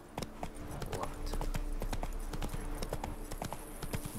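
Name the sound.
horse Roach galloping in The Witcher 3 video game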